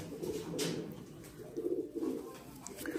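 A young pigeon coos in low, soft, murmuring phrases that repeat across a few seconds, close by but faint.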